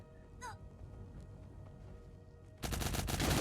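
Rapid automatic gunfire from the video game Cyber Hunter during a duo tournament match. After a quieter stretch with a brief chirp, loud, fast bursts suddenly fill the end.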